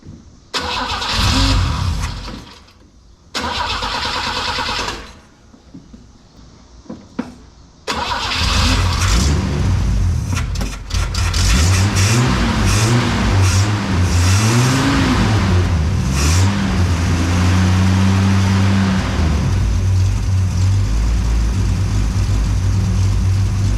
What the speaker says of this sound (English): Listen to that, folks. Idling so pretty.